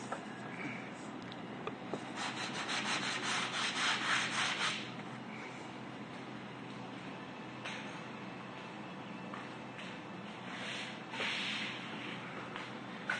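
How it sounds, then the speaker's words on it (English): The edge of a rustic wooden table top being sanded by hand, a steady close rasping rub that runs on without pause and swells louder for a few seconds early on, no talking. "you have to like sand it down like this way"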